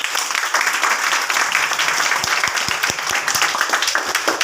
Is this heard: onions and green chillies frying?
no